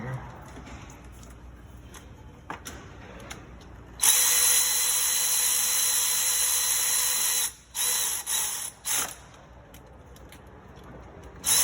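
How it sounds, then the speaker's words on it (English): A cordless 3/8-inch battery ratchet runs on fittings of a 2007 Nissan Altima, a loud steady whir of about three and a half seconds, then several short bursts as it snugs down, with quieter shop clatter before. "Let's get my 3/8. I almost said air ratchet. Battery ratchet. These kind of run in there."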